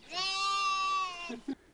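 A single Romanov sheep lets out one long, wavering bleat up close, followed by a short soft grunt.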